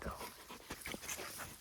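A young Armenian Gampr livestock guardian dog pants close by, quick rhythmic breaths with a faint whimper, quiet against outdoor farm background.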